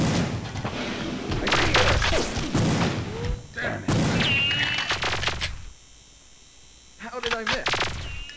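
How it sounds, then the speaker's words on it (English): Enemy gunfire in the video game Perfect Dark, a dense string of shots and impacts with short bursts and electronic tones, loud, broken by a brief lull before more firing. "where they will fire at us"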